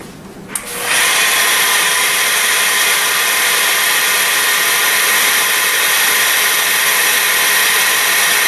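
Up close, a power polisher fitted with an 800 grit pad spins up on quartz and holds a loud, steady high-pitched whir throughout.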